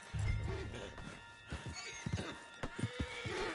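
Horse in Red Dead, a western video game, giving a loud whinny at the start, followed by scattered hoof thuds and clip-clop steps close by.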